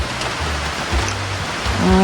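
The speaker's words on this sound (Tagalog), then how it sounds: "Ulan na jud kay dari." Heavy rain falls during a typhoon, a dense and steady hiss close by, with low rumbling gusts underneath and no voices.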